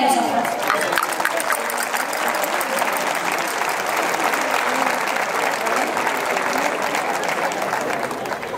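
Audience at a folklore night in Villarrubia de los Ojos applauding a folk group, a loud, dense, continuous clapping lasting the whole stretch and tapering slightly at the end.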